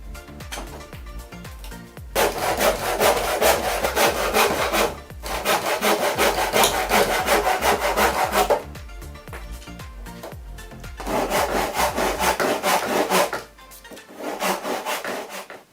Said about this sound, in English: You can then trim this edge feeder to look better,